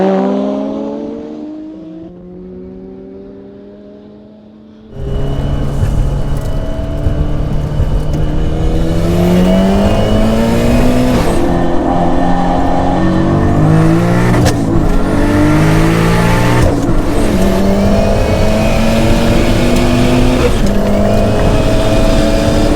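A 520 hp Ford Sierra RS500 and a 560 hp Toyota Supra launch side by side in a roll race, engines roaring loud and close, with rising revs climbing through repeated gear changes, after a quieter idle at the start.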